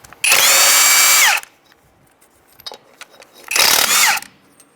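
Power tool spinning off locking lug nuts on a 1992-1996 Ford F-150 wheel: two loud, sustained whirring bursts, each about a second long, separated by a pause with faint clinks.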